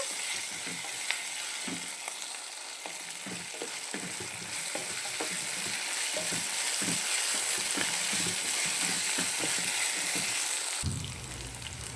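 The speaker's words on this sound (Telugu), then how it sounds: "అల్లం వెల్లిపాయ పేస్ట్ కూడా ఇందులో వేసేసుకొని పచ్చివాసన పోయేంత వరకు ఒకరు ఫ్రై చేసేసుకోవాలి" Ginger garlic paste fries with potatoes in a pan, a soft, even sizzle broken by repeated stirring strokes, fairly quiet, ending abruptly.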